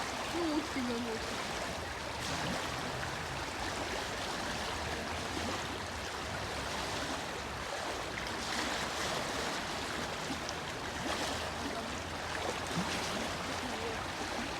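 A small stream runs through a ravine on the Chermyanka, a tributary of the Yauza in a park, giving a soft, continuous trickling wash with faint background sounds.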